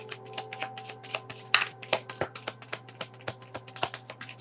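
Tarot cards shuffled by hand during a reading, a fast run of crisp riffling clicks and taps, close and steady, quiet with a low background hum.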